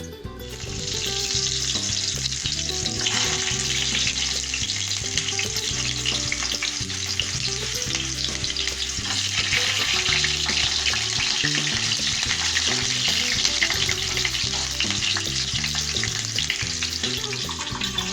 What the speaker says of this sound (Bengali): কড়াইতে দিয়েছি 3 চামচ সর্ষের তেল। ওর মধ্যে আমি কয়েকটা বেবি পটেটো ভেজে নিচ্ছি।